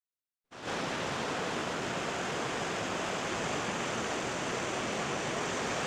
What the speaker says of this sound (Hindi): कितनी तेज आवाज़ है पानी की कि कुछ सुनाई नहीं देता